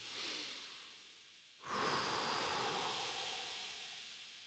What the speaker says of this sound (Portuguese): se de repente eu respirasse fundo